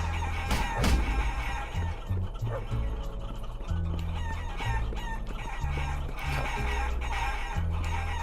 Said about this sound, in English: Overrun with chickens.